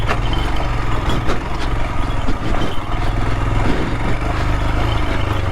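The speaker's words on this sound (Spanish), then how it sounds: "esta es la parte donde la moto de Fran más lo está sufriendo" A small 110cc motorcycle labors up a steep, rough dirt trail in La Rioja, its engine droning loud and close with a steady strained buzz and faint clattering throughout.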